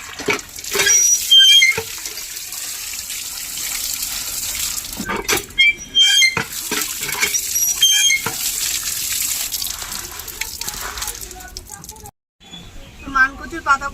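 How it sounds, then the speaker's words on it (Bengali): Taro leaves are rinsed under running water in a village kitchen. Close, continuous splashing and hissing water is broken by brief clatters and handling noises, with a short silence near the end. "এবার জল দিয়ে ভালো করে ধুয়ে নেব"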